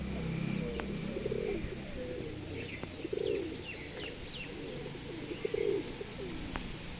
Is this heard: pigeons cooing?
yes